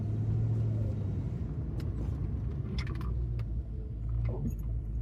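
A car cruises at about twenty miles per hour with a low, steady engine and road rumble, plus a few light rattles and clinks from inside the cabin.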